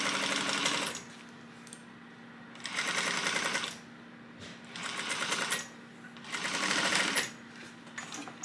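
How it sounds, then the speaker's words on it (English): A sewing machine runs a seam down a crossbody bag at a 3/8 inch allowance, in four steady bursts of close, even stitching separated by short pauses, with no talk. "I'm just going to stitch this all the way down at that 3/8 of an inch seam allowance"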